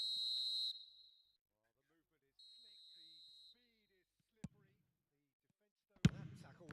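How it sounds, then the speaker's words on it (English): A referee's whistle in an eFootball 2026 match sounds for offside as two shrill, sustained blasts separated by a short gap, followed by a couple of sharp, isolated thumps. "And the whistle's gone, presumably for offside."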